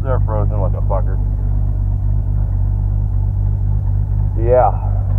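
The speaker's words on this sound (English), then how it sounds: "My goddamn old motor actually runs pretty good" An old car engine idles steadily on a frozen day, a loud continuous low rumble throughout, with someone speaking briefly over it at the start and again near the end.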